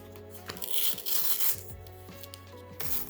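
Plastic blister pack holding a Pokémon card booster being forced open with pliers in a bedroom, giving close crinkling, cracking and tearing bursts with a few sharp snaps.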